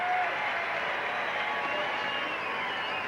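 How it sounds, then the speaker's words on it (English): A hockey arena crowd reacts at a 1978 Houston Aeros versus Hartford Whalers game after a fan yells Gordie Howe, producing a broad, continuous roar of cheering and murmur that fills the space. "some fan yells out Gordy Howe, and the crowd gets a charge out of that"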